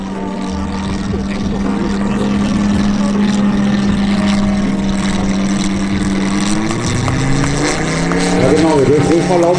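A large radio-controlled model airplane at an air show in Kirberg, Germany, descending slowly and almost vertically, its engine a loud steady drone that shifts slightly in pitch throughout.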